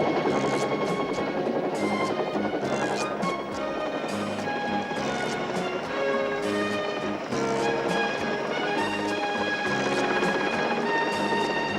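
A helicopter drones loudly and continuously in an 1980s TV action series, with a dense mix of music or rotor clatter layered over it.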